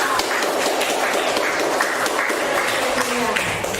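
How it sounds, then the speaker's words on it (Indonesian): A class of schoolchildren applauds in a classroom, a dense, steady wash of clapping that stays loud and even from start to finish with no clear talking over it. "Tepuk tangan buat John dan Rena."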